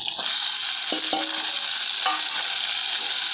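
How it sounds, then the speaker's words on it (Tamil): Onions, green chilies and ripe tomatoes sauté in a pan, giving a steady close sizzle with a few brief scraping stir sounds, no talking. "வெங்காயம் வதங்கிட்டு இருக்குது"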